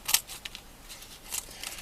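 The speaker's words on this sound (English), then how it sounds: "you remove the spikes from other leaves that are still remaining with your kitchen scissors" Kitchen scissors snipping spikes off artichoke leaves, a few quick crisp snips close up with short pauses between, no talking.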